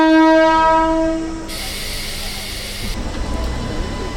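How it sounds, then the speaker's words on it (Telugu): A MEMU passenger train near Gollaguda, past Shankarpalli on the Secunderabad–Wadi line, sounds a loud horn that fades, then a steady rumble and hiss of the running train continues. "ట్రైన్ అయితే ప్రెసెంట్ శంకర్పల్లి దాటి గొల్లగూడకి అయితే వచ్చింది."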